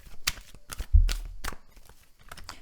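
Tarot cards laid down one over another on a table, a few soft, brief slaps and papery rustles spaced across a couple of seconds, close and quiet.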